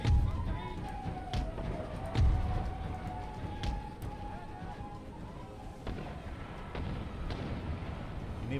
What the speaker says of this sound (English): even though these mortars aren't at full strength, they're really pounding us